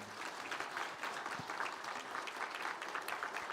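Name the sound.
welcoming applause in church service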